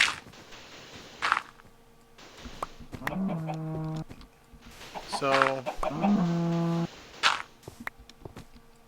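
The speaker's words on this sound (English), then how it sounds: "yeah, cow." Cow moos in the blocky video game Minecraft, two drawn-out lowing calls close by with clucking chicken sounds between them, someone speaking briefly.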